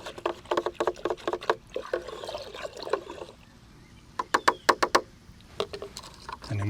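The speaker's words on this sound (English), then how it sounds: "I'm gonna give it a really good stir." Alfalfa tea stirred in a bucket, with rhythmic sloshing and splashing bursts in two runs separated by a brief quiet gap, close and fairly loud with no talking.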